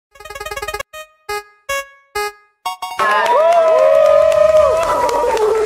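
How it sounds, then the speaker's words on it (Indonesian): A game-show fanfare of short tonal stabs cuts off. The studio audience then bursts into loud applause and cheering, with a sustained musical tone layered over the crowd noise. "tepuk tangan dong"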